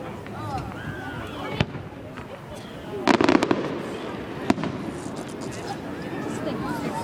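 Fireworks bursting outdoors at a lakeside display, sharp booms and crackles in a cluster near the middle with scattered single pops, over steady ambient noise and people chatting and exclaiming nearby.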